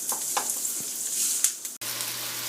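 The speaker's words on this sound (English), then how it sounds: "saute these till they are golden brown." Onions sauté in a pan for daal makhni, producing a close, steady sizzling hiss with light stirring scrapes, briefly cut off and then resuming with a continuous fry.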